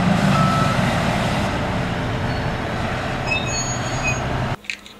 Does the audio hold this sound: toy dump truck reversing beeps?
yes